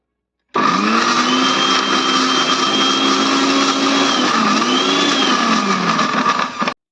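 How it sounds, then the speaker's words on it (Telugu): A kitchen mixer grinder whirs steadily, blending boiled spinach, green chillies and a piece of ginger, its loud motor whine holding from start to finish with slight pitch shifts as the contents churn, then cutting off abruptly. "బాయిల్డ్ చేసుకున్న పాలకూర, పచ్చిమిర్చి, అల్లం ముక్క వేసుకొని ఇప్పుడు గ్రైండ్ చేసుకుందాం."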